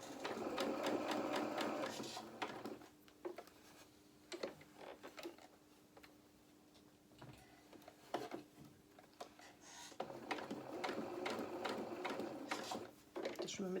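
A sewing machine stitches a doll's shirt in two bursts of rapid, steady clatter, close and fairly quiet. Between the bursts comes a quieter pause with brief handling sounds and a voice speaking.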